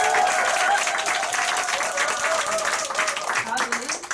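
An audience at a business group seminar claps steadily and loudly throughout, a dense sustained round of applause with a voice speaking over it.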